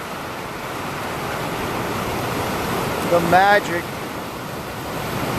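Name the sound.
sea waves breaking on the shore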